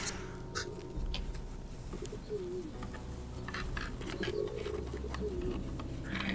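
A pigeon coos in the video game Gabriel Knight 2: The Beast Within, soft rolling calls repeated a few times over a busy ambient background of faint chatter and clatter.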